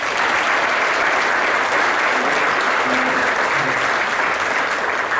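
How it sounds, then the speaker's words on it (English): A large banquet audience at a university spring reunion breaks into loud, sustained applause, a dense unbroken wash of clapping close by for several seconds with a few faint voices mixed in. "Please give them a round of applause"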